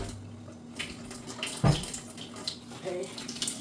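Hot water runs from a tap for cleaning a dirty white refrigerator with dish soap and a rag, a soft steady splash under faint background noise with a brief louder thump midway.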